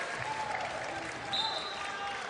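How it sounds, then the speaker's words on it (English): Teammates at an NCAA women's basketball game, FGCU vs Missouri, cheering and clapping for a sixth-year senior, a short steady burst of applause and crowd noise in an arena under a commentator's voice. "getting a big old cheer from her teammates"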